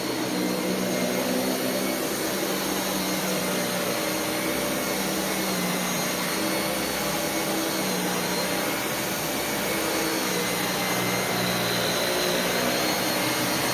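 A Dyson Cinetic Big Ball upright vacuum cleaner runs steadily and loudly throughout, a continuous close-up whine and rushing airflow with no pauses and no talking.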